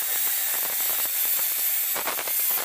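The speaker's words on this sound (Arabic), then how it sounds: "نقوم بفتح هذه القطعة بواسطة الصاروخ من هنا." An angle grinder cuts into a metal part of an electric welding machine, giving a steady, loud, continuous hiss with rough scraping bursts throughout, close up and alone, without voices.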